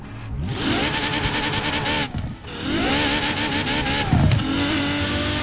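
A Ferrari Pista hybrid engine in Forza Horizon 4 revs hard, rising in pitch through two long sweeping pulls with a short dip between, then a brief lower blip near the end, loud and close.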